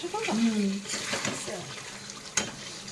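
Poultry meat cooking in a pan on a gas stove, a soft sizzle with stirring scrapes and a brief clatter near the end, while a voice speaks briefly at the start.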